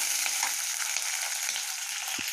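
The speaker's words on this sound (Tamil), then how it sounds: "கருவேப்பில போட்டுக்கலாம், நல்லா வதக்கிக்கலாம்" Curry leaves sauté in a hot pan with a bright, even sizzle and a few soft stirring touches. Nearby and unbroken, with no one speaking.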